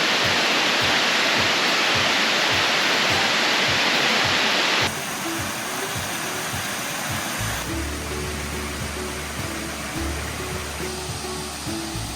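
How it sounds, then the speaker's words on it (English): A waterfall at Clifty Falls State Park roars as a loud, continuous broadband rush, later joined by a low engine-like rumble. "I hear another waterfall."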